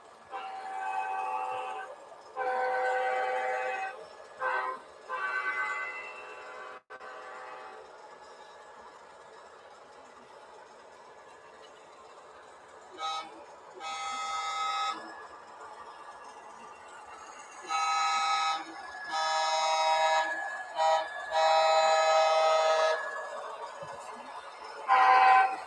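Model trains run on a small loft layout, with bursts of wheel clatter, rail noise and toots rising and falling in loudness between quieter stretches, fairly close and moderate in level.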